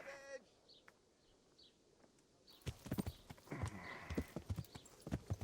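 Horse hooves clip-clopping in the video game Kingdom Come Deliverance, quiet at first under faint bird chirps, then a steady walking rhythm of hoof beats growing louder and closer.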